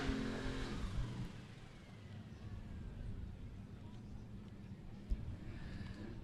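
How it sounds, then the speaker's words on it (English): Drag racing cars at a Sick Summer event doing burnouts, a continuous broad roar of revving engines and tire noise heard from a distance with crowd or announcer-like murmur underneath and a brief sharp pop near the end. "we have the signal out to do the burnouts for the next pair"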